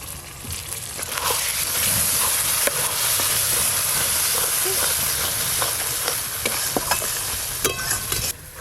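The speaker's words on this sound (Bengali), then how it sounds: "মশলা তো ভালো করে কষানো হয়ে গেল" A spice masala with yogurt, green chilli and shahi garam masala sautés in a pan for chicken curry, giving a steady loud sizzle broken by the scrape of a spoon stirring through it.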